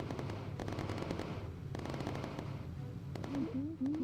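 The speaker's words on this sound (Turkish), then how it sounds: "Şu üstteki yeni silahların sesi farklı." Machine guns firing from new turret guns in the video game Bomber Crew, heard as steady rapid rattling bursts over a constant engine drone, with brief tonal sweeps near the end.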